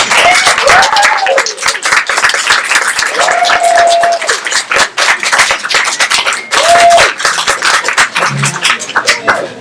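An audience in a bookstore talk room applauds to welcome a debut novelist to the stage, with steady, dense clapping lasting throughout, some voices rising faintly over the claps.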